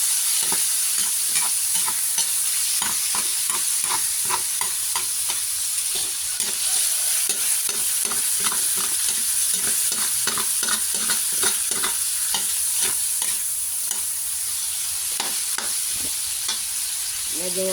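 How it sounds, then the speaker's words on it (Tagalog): Chicken sautés in a pan for pancit, a constant loud sizzle cut by rapid, rhythmic stirring scrapes repeating every fraction of a second, close up and without talk. "Higisa na natin. Lagay na natin ang ating chicken."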